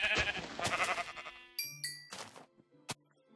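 Sheep bleating in the video game Minecraft, a couple of short, nasal baa calls close up, interleaved with small game chimes and hit sounds.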